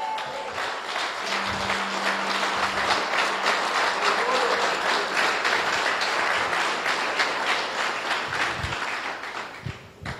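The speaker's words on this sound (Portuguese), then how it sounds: "Pode aplaudir o Senhor." A church congregation applauds steadily and loudly for the whole stretch, a dense wash of clapping with no pauses and no voices on top.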